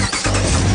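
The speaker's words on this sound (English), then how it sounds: "Start your engines." Off-road four-wheel-drive vehicle engines catch and start, a loud close rumble with a steady low drone settling in after a brief stutter at the start.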